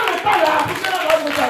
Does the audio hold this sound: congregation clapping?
yes